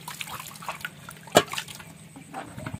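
Goat tripe and intestines washed by hand in water, with soft close sloshing and trickling and one sharper splash near the middle.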